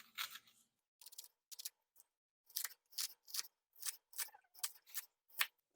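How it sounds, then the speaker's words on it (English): A knife chopping a bunch of green onions into tiny bits on a board, a series of sharp, crisp, close cuts in uneven bursts separated by short pauses. "you want to cut these up so they're in just tiny little bits."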